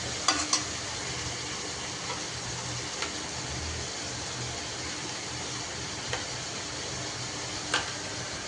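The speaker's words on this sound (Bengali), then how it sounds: "এখনই তো ঢ্যাঁড়সটাও দিয়ে দিচ্ছি।" Okra fries in a pan with sliced green chillies, making a continuous sizzle. A utensil stirs and scrapes the pan, adding a few sharp clicks spaced across the stretch.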